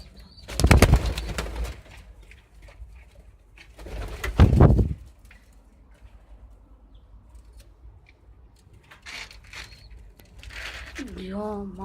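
Pigeons at a loft, with two loud bursts of wing flapping close by, quieter rustling between them, and soft cooing near the end; someone speaks over parts of it.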